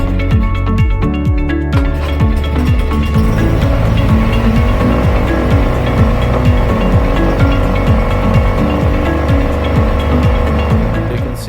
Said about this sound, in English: I'm busy revving up the throttle just to try and get it out, and eventually it cuts out.